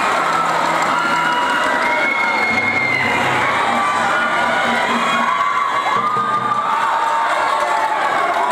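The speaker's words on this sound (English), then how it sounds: "let's give a nice big round of applause to our cheerleading team" A high school pep rally crowd cheers for the cheerleading team in a large gym, a loud, sustained roar of shouting and whooping voices that fills the space without letup.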